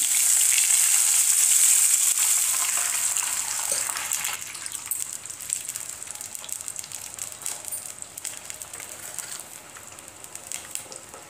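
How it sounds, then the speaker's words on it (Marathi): Water added to sizzling fried garlic in a pan gives a loud, bright frying sizzle at first, then settles into softer crackling and bubbling over about ten seconds, with no voices. "लसूण छान असा तळलेला आहे तर आता टाकूया पाणी"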